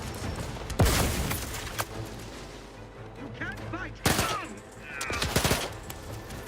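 Shotgun fire in the video game The Outer Worlds 2, a few heavy blasts spaced apart amid busy combat noise, with speech and other gunfire in the mix.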